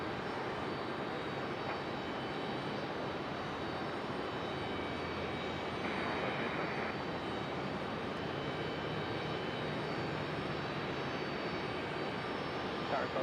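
Aircraft at Raleigh Durham International Airport, a constant distant jet engine roar that holds steady and fairly faint throughout, with no distinct pass or climb.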